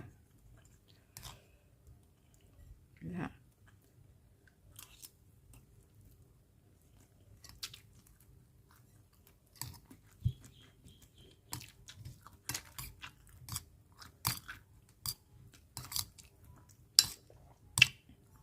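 Close, quiet chewing and biting of food, with intermittent soft crunchy clicks and squishy bites that grow more frequent toward the end, no talking.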